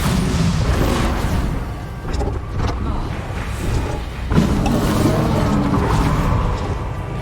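A Bombarda blasting spell exploding in a wizard-themed video game. A sharp blast bursts out midway through a steady wash of loud rumbling game noise, with a voice speaking.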